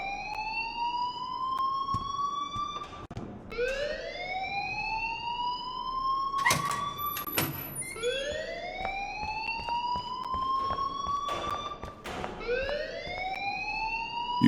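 A school fire alarm in the video game Life is Strange wails in repeated rising sweeps, a loud electronic siren cycling over and over with a few sharp clicks between sweeps.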